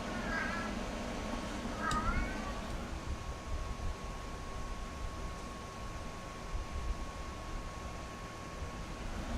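Two short cat meows early on, close and fairly clear over a steady hiss and low rumble, with a faint thin tone lingering after.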